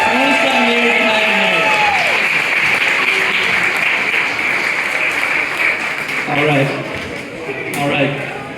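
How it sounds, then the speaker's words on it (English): Wedding guests break into applause for a couple celebrating their 27th anniversary, a steady wash of many hands clapping that swells after a short spoken line and then fades. "Let's give them a big round of applause."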